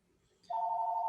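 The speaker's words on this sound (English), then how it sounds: "apologize for the phone in the background" A telephone rings in the background of a classroom-style math lesson, its single steady electronic ring tone starting abruptly and holding, fairly faint and with no talk over it.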